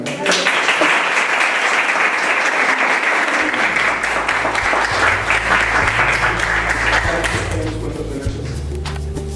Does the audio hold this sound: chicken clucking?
no